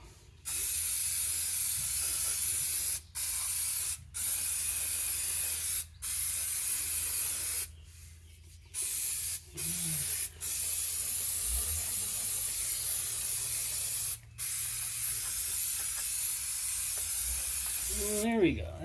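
Brake cleaner sprayed from an aerosol can onto the rear brake area of a Pontiac G6 during a rotor and pad replacement, a loud sustained hiss broken into several bursts of varying length, with brief pauses between them.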